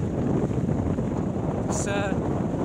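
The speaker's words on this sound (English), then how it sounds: "The wind is definitely stronger. I think it's a headwind, and it's making it difficult." Headwind roars steadily against a moving electric velomobile, a continuous rushing buffet of air with a brief higher whistle near the end.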